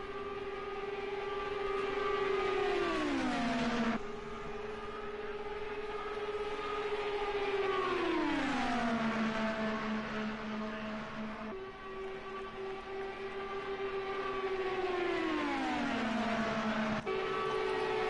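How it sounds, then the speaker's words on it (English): Indy car engines in a racing video game, a steady high whine repeatedly dropping in pitch as the car shifts gears, loud and continuous with no talk. "We're just listening into some of the engine sounds here."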